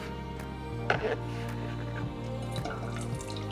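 Liquid pours into a pot on the stove while making coquito, a steady trickle with soft splashes and drips over a low, constant hum, with no talk.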